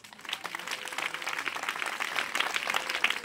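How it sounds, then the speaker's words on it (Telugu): A church congregation claps together in a sustained, dense patter of many hands, fairly steady and moderately loud throughout, with no voices standing out. "నమ్మిన వాళ్ళు చప్పట్లు కొట్టండి."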